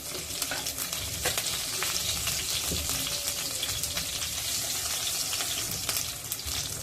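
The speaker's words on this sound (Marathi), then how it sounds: "लगेच त्यामध्ये मी दोन मिरच्या बारीक चिरलेल्या घालत आहे" Cumin seeds and finely chopped green chilies sizzle in hot oil over a low flame while preparing spicy shev bhaji, a steady dense crackle with occasional stirring scrapes, close and continuous without any talk.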